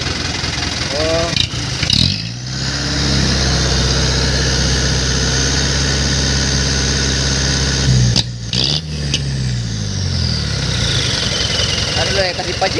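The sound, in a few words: motorcycle with Cung exhaust idling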